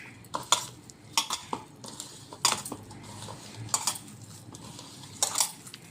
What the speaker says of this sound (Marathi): हे सगळं आपण यामध्ये आता मिक्स करून घ्यायचं आहे